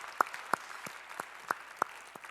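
Sharp, evenly spaced claps, about nine in a steady rhythm, ring faintly through a quiet church during Sunday worship, with no talk over them.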